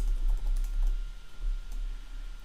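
Soft, close keystrokes on a computer keyboard tapping out a line of code, an irregular run of light clicks that thins out toward the end, with no voices.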